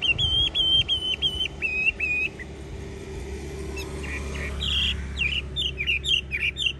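A hwamei songbird, hung outdoors in bitterly cold 8°C weather, sings loud, close, repeated whistled phrases in two bursts separated by a quieter pause, over low background rumble with no talking.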